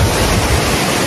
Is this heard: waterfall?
yes